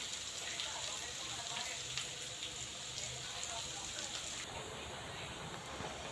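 Food roasting in a pan sizzles with a steady, bright crackle and hiss, a continuous even frying texture close by with faint talk underneath.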